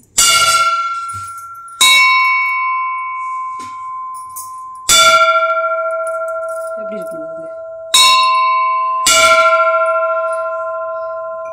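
Five resonant metallic strikes on an old brass milk can ring out like a bell, each tone sustaining and slowly fading; a voice speaks briefly between strikes.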